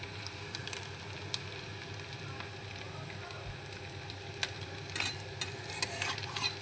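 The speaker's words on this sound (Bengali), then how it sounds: "এই তেলটা দিয়েই আমার সব বড়া ভাজা হয়ে যাবে" Fritters frying in a pan of coconut oil give a steady, soft sizzle with crackling pops that sharpen toward the end, heard close up with no one speaking.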